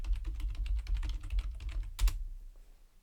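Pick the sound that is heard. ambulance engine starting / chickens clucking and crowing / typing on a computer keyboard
typing on a computer keyboard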